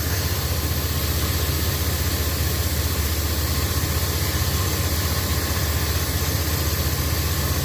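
A 2001 GMC Jimmy engine, freshly fitted with a new spider injector, runs at a steady idle: a loud, constant close-up drone with no talking.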